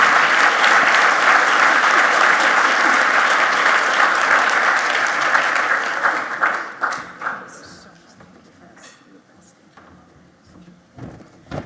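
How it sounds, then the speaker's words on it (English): Loud, dense audience applause at a leadership event fills the first several seconds, then thins into scattered claps and fades to quiet room noise. "So I think that deserves an added round of applause"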